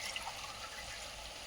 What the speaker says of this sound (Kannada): ಒಂದು ಅರ್ಧ ಕಪ್ಪು ನೀರು ಹಾಕಬೇಕು.